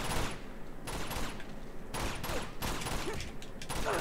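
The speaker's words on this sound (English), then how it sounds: "I love how he's still shooting when" Rapid bursts of enemy gunfire rattle through a firefight in Uncharted 2, with dense overlapping volleys cutting in and out in uneven clusters at moderate loudness.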